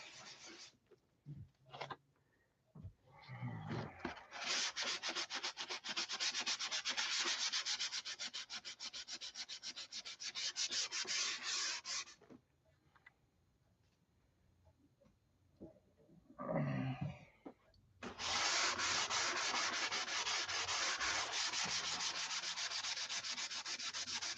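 Coarse 80 grit sandpaper rubbing hard on a damaged Tucker XL model aircraft wing, steady close scraping strokes in long sustained bursts with brief pauses between.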